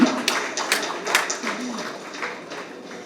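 Scattered audience clapping in a seated hall, a handful of sharp claps fading over a few seconds, with a voice speaking over them.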